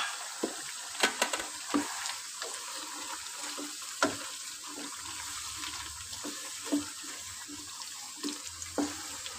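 Chicken and tinda frying in ghee give a steady broadband sizzle, with sharp scraping spoon-on-pot clicks scattered throughout at irregular intervals, close and fairly quiet.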